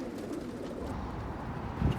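Pigeons coo softly near a rooftop coop in New York City, a low murmuring rumble with one closer, louder coo near the end, against steady outdoor background noise.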